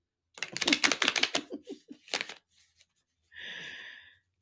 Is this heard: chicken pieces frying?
no